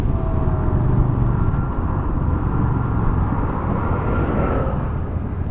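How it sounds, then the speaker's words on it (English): A Royal Enfield Super Meteor 650 on a highway test ride hums with a continuous, fairly loud exhaust rumble, alone and unbroken with steady road noise. "Got a really nice note to the exhaust."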